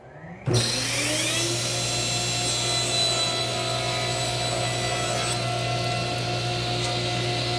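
A saw cuts across a lumber board guided by a miter gauge while milling it square: a sharp start followed by a steady, loud, continuous motor whine with a strong hum, with no talking.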